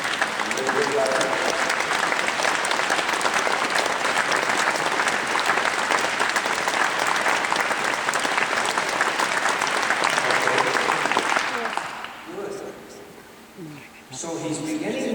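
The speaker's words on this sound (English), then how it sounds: "Keep clapping." A large audience claps steadily and loudly in a hall during a horse-training demonstration, the dense applause sustained for about eleven seconds before breaking off into scattered sounds and a renewed burst at the end.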